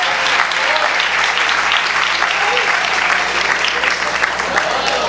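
A church congregation claps steadily and loudly throughout a service, with dense, continuous applause and a faint murmur of voices underneath.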